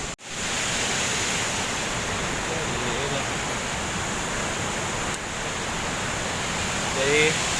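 Tanggedu waterfall on Sumba island gives a steady, broad roar of falling water, loud and continuous throughout, with a brief faint whistle-like sound near the end.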